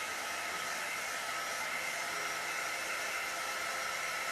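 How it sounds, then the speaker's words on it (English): A heat gun blows on resin, a steady and fairly loud hiss-roar of rushing air that holds evenly from start to finish, with no voices. "I'm gonna hit this with a heat gun"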